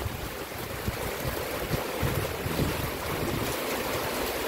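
Super typhoon Uwan lashes the area with a constant, dense roar of wind, rough and gusty throughout with heavy rumbling buffeting, no voices heard.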